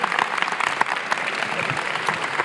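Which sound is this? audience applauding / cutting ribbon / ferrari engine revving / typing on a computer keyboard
audience applauding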